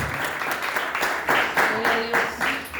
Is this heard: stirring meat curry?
no